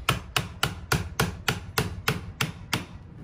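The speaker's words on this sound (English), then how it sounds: "hammering in the scraper so that it kind of peels off that layer of wood" A scraper is hammered into a shuttle bus wall to peel off a glued layer of wood during a skoolie conversion. About ten sharp, evenly spaced strikes land close and loud, with no talking.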